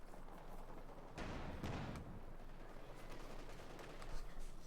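Gunfire and explosions from a Company of Heroes 2 match between OKW and UKF, with several bursts of shots and booms at moderate distance inside a continuous battle din.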